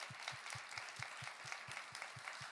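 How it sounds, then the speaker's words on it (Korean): A church congregation claps together in a rhythmic, evenly spaced beat at a university ministry service, heard faint and distant, roughly ten steady claps in a row. "감사하는 마음으로 2025년 인도하시고 26년 주신 하나님께 영광의 박수를 올려드립시다"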